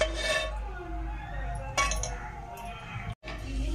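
A spoon stirs and mixes tomato chutney in a pan, with a few close metallic clinks and scrapes over a low background hum.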